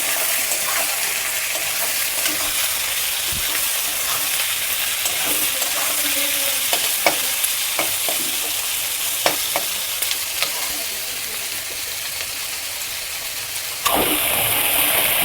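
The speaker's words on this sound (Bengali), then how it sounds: "আমি পেঁয়াজটাকে লাল লাল করে ভেজে নিচ্ছি" Onions frying until reddish brown in a pan over a raised gas flame for chicken curry give off a steady, dense sizzle with scattered stirring clicks, then a louder surge near the end.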